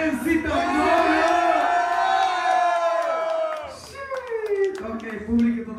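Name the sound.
crowd cheering loudly at rap battle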